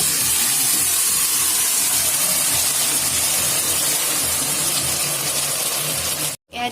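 Meat hits a hot pan with onions for an Assamese-style chicken curry, setting off a loud, continuous sizzling hiss of steam that runs steadily for several seconds before cutting off abruptly near the end.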